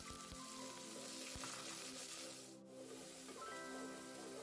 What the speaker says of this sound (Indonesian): Saya tumis terlebih dahulu bumbu untuk kuah tekwannya.